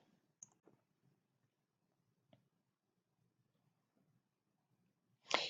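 A few faint, sparse computer mouse clicks sound in a quiet room, followed by a louder rustling burst at the very end.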